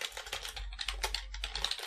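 Rapid, steady typing on a computer keyboard while HTML code is entered. Keys clatter close up in a continuous stream with no talk.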